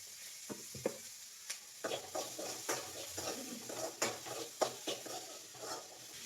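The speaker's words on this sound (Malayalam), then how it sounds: "അതിൻ്റെ കൂടെ കുറച്ച് എണ്ണയും കൂടെ ഒഴിച്ചു കൊടുത്ത് അതൊന്ന് വഴറ്റിയെടുക്കാം" Shallots sautéing in oil in a pan sizzle steadily up close, with a spoon scraping and stirring in irregular bursts and occasional clinks against the metal.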